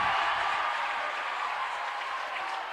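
A crowd at an NCAA Division II women's basketball South Region semifinal between Union and Eckerd applauds and cheers in a steady wash of clapping that carries through the whole stretch and eases off slightly toward the end.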